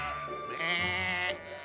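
A single wavering sheep bleat, fairly close and clear, lasting over a second with no talking.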